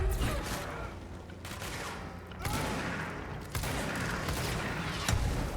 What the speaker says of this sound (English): Ooh, rockets.